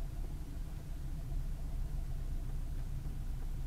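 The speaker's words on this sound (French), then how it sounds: "on va continuer en deuxième puisque le véhicule est sur le ralenti moteur" A car engine idles with a low, steady rumble while the car rolls in second gear. The sound is faint and unchanging throughout, with no other sounds over it.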